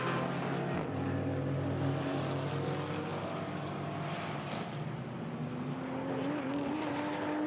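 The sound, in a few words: GT4 race car lapping Paul Ricard circuit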